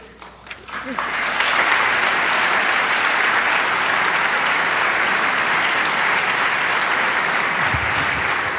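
Lecture audience applauding at a university talk by a president, a dense steady clapping that swells in after a second and holds loud and even to the end, with no voices over it.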